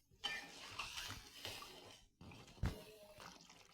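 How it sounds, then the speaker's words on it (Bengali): Water is poured into a pan of rohu fish head and teasel gourd curry, producing two bursts of splashing and liquid noise with a faint clink of the pot, close by and with no talk. "এবার আমি জল দিয়ে দেবো, পরিমাণ মতন জল দিয়ে দিলাম।"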